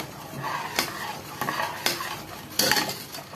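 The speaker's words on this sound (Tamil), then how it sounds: "கை எடுக்காம கிளறிக்கிட்டே இருக்கணும்." Spoon scraping and stirring thickening pearl millet rice in a cooking pot, with several distinct clinks and scrapes in an irregular rhythm, close and fairly loud with no talking.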